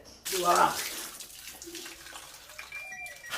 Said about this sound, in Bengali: ও দাদা, মুখ ধুয়ে লাগছেন?